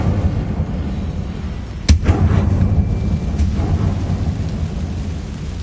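The Incendio fire spell is cast in Hogwarts Legacy as a single sharp burst, followed by a rumbling, crackling roar over a steady storm-like background wash.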